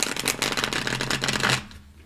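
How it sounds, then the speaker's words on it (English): Light Seers tarot cards shuffled by hand in one quick, close riffling burst of crisp papery flicks that stops abruptly near the end. "Shuffle these cards just so."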